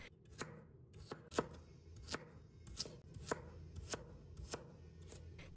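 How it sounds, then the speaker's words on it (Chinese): A knife chops carrot into small dice on a cutting board, making a fairly even series of sharp knocks, about a dozen over a few seconds. The sound is close and clear, and no one speaks. "然后切成胡萝卜丁"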